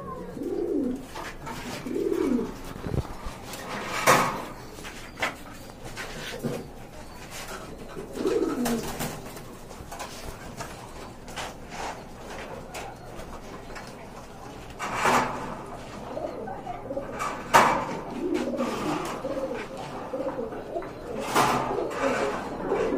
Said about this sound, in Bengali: ভালো ভালো কবুতর আছে আমার এখানে